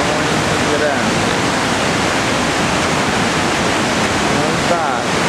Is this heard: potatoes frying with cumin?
no